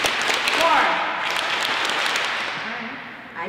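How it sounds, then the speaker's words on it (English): Middle school students in an assembly clap together, a dense burst of applause-like handclaps that swells and gradually fades, heard fairly close with some voices mixed in. "Clap once if you hear me. Twice. Three times. Four."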